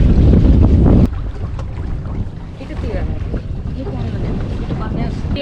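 Tour boat gliding along the canals of Giethoorn, Netherlands, with steady wind rumble on the microphone and low engine or water noise throughout, louder in the first second, with faint voices in the background.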